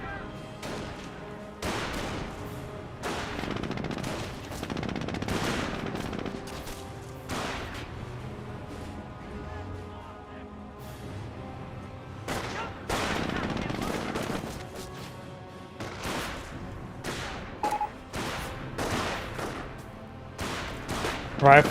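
Gunfire from G43 rifles in the World War II strategy game Company of Heroes, repeated loud sharp shots and bursts sounding throughout over a busy battle bed.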